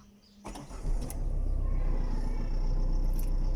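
A 2006 Tata Indigo TDI diesel car engine, nearly fourteen years old, catches with a creaky mechanical start and settles into a steady, loud, low rumble heard up close.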